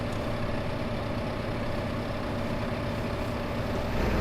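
A tractor engine strains in Farming Simulator 2015 while towing a header trailer loaded with a header, a steady low droning hum that holds even and continuous throughout, with no speech.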